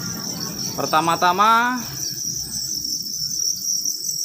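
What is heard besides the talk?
crickets chirping in a breeding box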